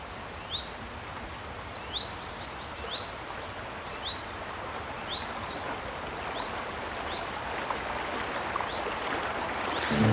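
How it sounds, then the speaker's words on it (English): Creek water rushes and burbles around stones in a continuous steady wash, with faint bird chirps above the flow. "The creek is twisting away, proving gravity. It snarls around stones into swirling eddies"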